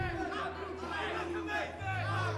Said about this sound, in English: He's got a mixed reaction from the crowd.